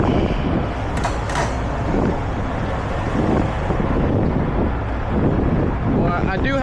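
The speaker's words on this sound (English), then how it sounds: "I think it's like 30-mile-an-hour winds or something like that today." Strong gusting wind of around 30 miles per hour buffets the microphone outdoors, a continuous loud low rumble throughout with brief higher rushes and a faint noise near the end.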